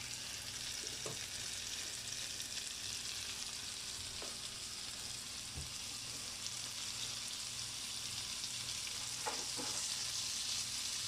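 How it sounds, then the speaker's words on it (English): Burgers frying in butter in a pan give off a steady, quiet hiss of sizzling, with a couple of faint clicks and no speech. "Ooh, you hear that sizzle?"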